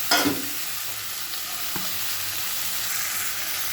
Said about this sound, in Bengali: এবার মাছটা ছেড়ে দেবো।